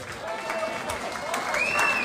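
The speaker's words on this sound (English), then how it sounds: "Please make some noise for Daniel Harvey." Boxing crowd at a charity championship fight applauding and cheering the winner after a first-round knockout, a continuous roar of clapping with whistles and shouts rising toward the end.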